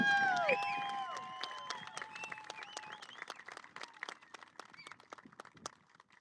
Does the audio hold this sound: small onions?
no